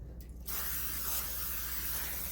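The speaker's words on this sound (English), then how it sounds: "This dish, as you guys can see, I'm just going to spray it." A short burst of cooking spray hisses steadily onto a baking dish after a brief quiet moment, close and continuous.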